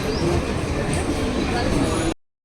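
A local train rolls into a busy railway station, a continuous loud rumble of wheels and carriages filling the platform for about two seconds, with people talking nearby before it cuts off.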